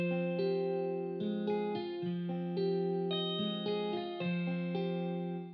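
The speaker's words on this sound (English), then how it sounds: "it just adds a little bit of distortion and some grittiness to the sample" A dark, plucked guitar sample with a vintage punch distortion preset in FL Studio plays a slow repeating melodic pattern, steady and clean-toned with gritty edges, with no voice over it.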